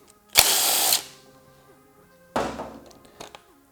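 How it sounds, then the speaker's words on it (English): A power tool with a 10mm socket backs out a screw on a Honda XR150L motorcycle, giving two short close whirring bursts with a pause between them in a quiet setting. "I'm gonna grab a 10mm socket,"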